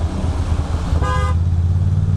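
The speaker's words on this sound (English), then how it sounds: "I don't know what that honking was about." A single short car horn honk sounds nearby over the steady rumble of New York City road traffic in the rain and motorcycle engine noise.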